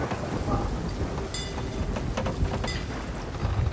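Heavy storm rain pours steadily in the pirate video game Sea of Thieves, with rumbling low noise and a few sharper crackles layered through the downpour, loud and continuous without any talking.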